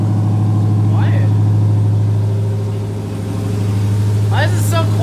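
A six-speed manual Dodge Hellcat idles loud and close with a deep, steady rumble, briefly dipping and picking back up, while a voice speaks over it in short bursts.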